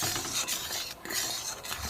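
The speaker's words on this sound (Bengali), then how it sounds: "একটু নাড়তে থাকি।" A spoon scrapes and swirls through milk thickened with cornflour in a pan, giving a continuous soft rasping stir with a brief pause, close and without any talk.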